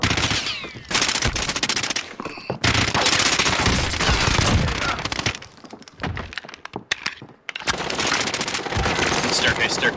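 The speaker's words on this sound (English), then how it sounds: "Taking fire!" Gunfire during a house fight in Warzone, dense loud bursts of automatic shots and sharp cracks coming in waves, with a short lull midway and voices mixed underneath.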